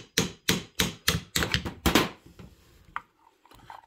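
Punch struck against a roll pin on a Husqvarna 266xp chainsaw chain brake, six sharp evenly spaced metallic taps close up, followed by a couple of fainter knocks.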